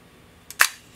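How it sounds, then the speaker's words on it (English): A single sharp mechanical shutter release on an Ihagee Exakta VxIIb film camera: a small click, then a louder snap that rings out briefly in a quiet room. "And press the shutter."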